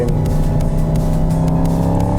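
A 2024 Mercedes-AMG GT 63 4MATIC+ Coupé with 585 hp revs its engine, a loud, steady throaty growl with dense low harmonics held close and alone for a couple of seconds.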